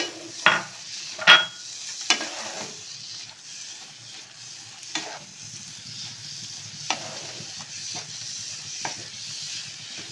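Coconut, raisins and semolina stirred quickly in a pan for gujiya filling, giving a soft dry scraping with a few sharp spoon knocks against the metal, close and fairly quiet with no talk.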